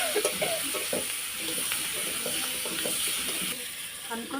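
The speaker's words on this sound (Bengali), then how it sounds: "এবার নেড়ে দিচ্ছি।" Fish roe curry with turmeric sizzles in a pan while being stirred, giving a dense, steady hiss with irregular scraping knocks of the spoon, close and continuous.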